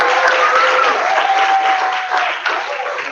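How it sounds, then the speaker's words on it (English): Audience applause at a student representative candidate forum, a dense, steady wash of clapping close by that holds loud for about three seconds, with faint voices mixed in. "Another round of applause, please."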